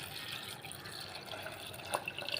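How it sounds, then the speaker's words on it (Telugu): Water from a glass pours into a pot of drumstick-leaf dal, a soft continuous gushing splash that swells slightly toward the end, fairly quiet and with no voices. "ఒక రెండు గ్లాసులు నీళ్ళు వేసుకుంటానండి"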